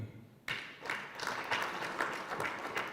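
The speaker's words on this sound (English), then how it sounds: "Let's add them a hand clap." Audience at a regional stakeholder community monitoring meeting breaking into applause for a district team, a sudden onset of scattered handclaps that continues steadily at moderate loudness.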